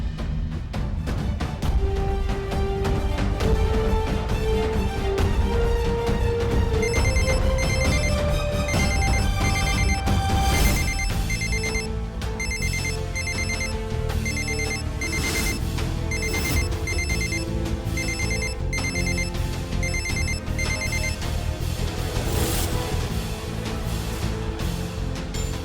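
A telephone ringtone plays continuously as a melodic electronic tune with repeating tones, loud and steady, over background music in a Hindi domestic drama scene, with no talk during the ringing.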